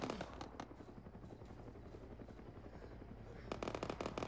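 An enemy helicopter in the military game ArmA 3 thrums through a battle, its rotor chop mixed with bursts of gunfire and crackling shots, fairly faint in the distance.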